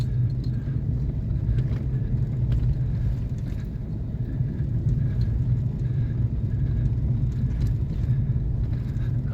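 A supercharged Chevrolet Silverado truck climbs a steep snowy hill, its engine a steady low rumble that holds constant and close throughout, with no voices.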